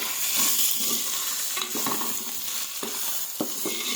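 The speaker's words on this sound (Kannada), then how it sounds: "ಈ ಥರ ಸಿಮ್ಮಲ್ಲಿ ಇಟ್ಕೊಂಡು ಫ್ರೈ ಮಾಡ್ಕೊಬೇಕು ಫ್ರೆಂಡ್ಸ್" Ground spices, chilli powder and coriander powder, frying and being stirred on low heat for bagara rice, with a steady close sizzle broken by repeated scraping strokes of a spoon.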